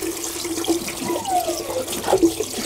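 Dyed fabric, naturally coloured with pomegranate, iron and logwood, rinsed under a running tap at a sink, giving a steady close water splash with faint shifting gurgles throughout.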